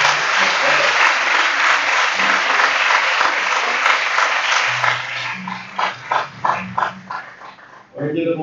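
Church congregation applauding in dense, loud clapping that thins into scattered claps, with a few voices and a short call near the end.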